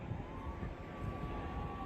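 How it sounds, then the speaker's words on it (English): A faint siren wails steadily in the distance beneath a low, rumbling background of outdoor noise at a downtown Dallas street protest. "Now I'm hearing sirens"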